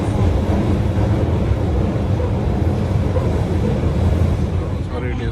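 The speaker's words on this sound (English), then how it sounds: "So this train is very convenient." Interior of a train riding between Osaka and Umeda station, a steady loud rumble of wheels and car noise with wind buffeting, continuous throughout without a break.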